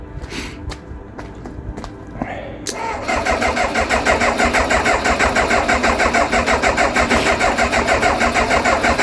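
An old Kawasaki ZX motorcycle, a garage find left sitting for years, cranks over after a few clicks and footsteps, its starter churning in a fast, even, loud rhythm that carries on steadily to the end.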